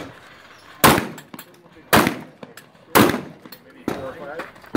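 Shotgun blasts at an outdoor practical shooting stage, four loud sharp reports spaced about a second apart, each with a brief ringing tail, close to the listener.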